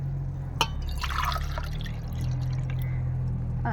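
Coconut milk pours into a pot with a soft, steady liquid splash and dribble for a few seconds, close by, with a brief clink at the start and no talking.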